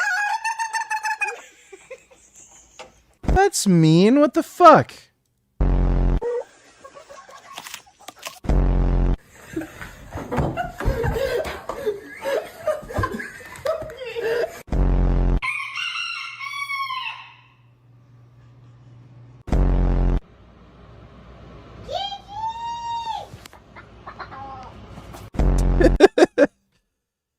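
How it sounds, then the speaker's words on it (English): Chicken clucking and rooster crowing from a clip, heard as sharp squawks and a drawn-out crowing call in separate bursts, interspersed with loud thumps and a man swearing in surprise. "oh my god, a chicken"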